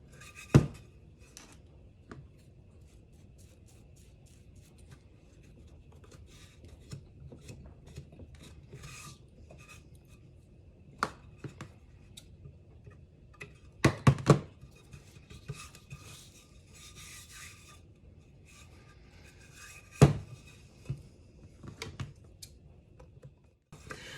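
Scissors or a blade cutting the top layer of fabric wrapped around a tumbler, heard as quiet rasping scrapes and rubbing with a few sharp, louder snips and knocks spread unevenly, close up, with no talking.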